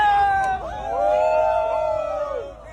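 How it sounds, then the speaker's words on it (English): Crowd noise rises at a vehicle fire during the LA riots: a loud, near babble of voices with whoops and shouting swells across the moment, dense and continuous with no single clear cheer standing out. "Look at them cheering this on, man."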